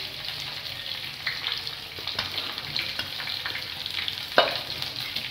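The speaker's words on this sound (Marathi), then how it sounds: "भिजवून घेतलेला साबुदाणा, साबुदाणा व्यवस्थित परतून घ्यायचा आहे।" Soaked sabudana (tapioca pearls) sizzles steadily as it is sautéed in a hot pan, a constant close crackle with soft stirring scrapes and a sharper clack near the end.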